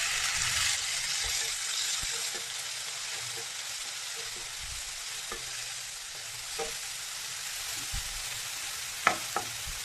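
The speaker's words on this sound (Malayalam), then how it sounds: "ഈ ഒരു സമയത്ത് നമുക്ക് ഈ തക്കാളി അരിഞ്ഞ് വെച്ച് ഇതിലേക്ക് ഇട്ട് കൊടുക്കാം." Chopped tomatoes hitting hot oil in a pan for a tomato rice dish, a steady broad sizzle with a few soft scraping stirs and light taps of the spoon against the pan, close and continuous with no talk.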